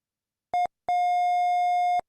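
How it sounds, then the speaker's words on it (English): Triangle-wave tone from a keyboard synthesizer shown on an oscilloscope: a short steady pitched note, a brief gap, then a longer sustained note of the same pitch, clean and alone. "And a triangle wave."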